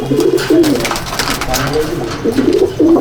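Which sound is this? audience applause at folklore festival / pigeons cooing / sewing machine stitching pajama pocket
pigeons cooing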